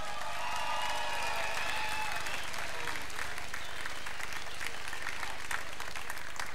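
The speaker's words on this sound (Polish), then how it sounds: "duże brawa dla Marty" Applause from a concert audience at a 2001 show, greeting a pianist about to take the stage, a dense sustained wash of many hands clapping that swells and stays loud throughout, with some crowd noise mixed in.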